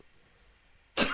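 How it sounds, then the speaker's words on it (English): A single sharp cough breaks out abruptly near the end, loud and close after a stretch of near-silence. "Excuse me, getting over a cough,"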